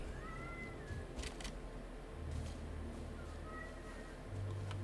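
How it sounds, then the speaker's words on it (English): A cat meows twice, a short drawn-out call near the start and another near the end, over steady low background noise with occasional clicks. "Kitty cat's yelling at me."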